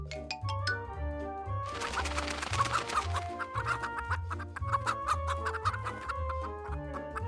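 Chickens cluck in a repeating pattern over a bouncy backing of music and bell-like tones, with a busy rustling burst partway through, all fairly quiet and with no speech.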